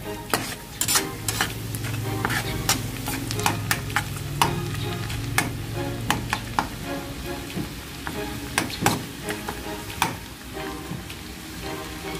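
Garlic sizzles in melted butter in a pan for spicy garlic butter shrimp, a steady close crackle broken by sharp scraping stir strokes at irregular intervals.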